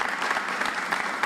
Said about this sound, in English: Let's give a round of applause to Tara.